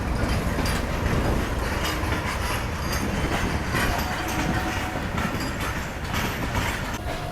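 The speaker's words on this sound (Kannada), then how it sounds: "ನಾವು ಈ ಟ್ರೈನ್ ಒಳಗೆ ಟ್ರಾವೆಲ್ ಮಾಡಿ" Continuous rumble and rattling of a moving train from Jabalpur, heard from inside a second AC coach, steady and loud with no one speaking.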